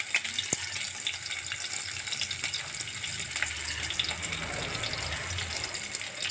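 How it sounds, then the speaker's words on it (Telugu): Fenugreek seeds are dropped into hot oil as tempering for menthi pappu, a lentil dish, giving a close, steady sizzling hiss with scattered small crackles and pops and no speech. "మెంతులు వేసేస్తున్నానండి."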